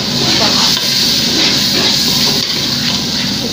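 Soaked chana dal sizzles steadily in hot masala as it is stirred in, a dense continuous frying hiss with faint stirring underneath and no pauses.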